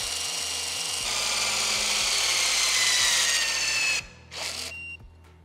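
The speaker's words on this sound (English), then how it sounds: "It's an electronic torque device, so it's very precise." A HYTORC electronic torque wheel gun tightens a centerlock wheel nut, a loud steady mechanical whir with rhythmic pulsing that runs for about four seconds, then stops with a short burst and fading tail.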